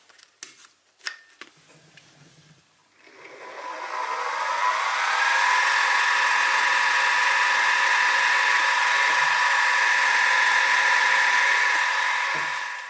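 A 2.5mm bit drilling a hole for the eccentric rod of a Stuart S50 model steam engine: after a few brief knocks, a steady, loud high-pitched whir runs evenly and close for about ten seconds.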